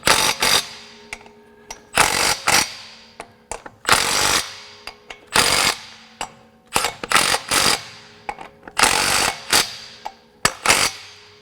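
A Milwaukee M12 Fuel stubby impact wrench on level 2 fires in repeated loud, close bursts of rapid hammering, each burst lasting about half a second to a second with short pauses between.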